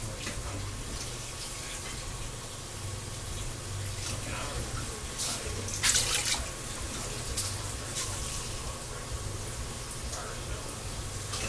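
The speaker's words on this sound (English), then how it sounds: "I'm going to add another 2 cups of water" Water steadily pours into a pot of chili verde being prepared for canning, a continuous soft running and splashing wash that holds at an even level throughout with no talking over it.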